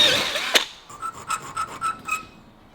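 A file scrapes a slot into a small part on a 1938 Hudson Terraplane, a sharp knock followed by about six quick, even rasping strokes, close and clear with no talk.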